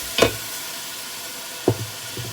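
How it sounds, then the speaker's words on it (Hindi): Chicken pieces frying in oil for Lahori-style yakhni pulao, with a steady close sizzle and hiss underneath and a few sharp spoon clinks and stirring knocks against the pot. "तो चिकन को फ्राई होने देते हैं ऑयल में।"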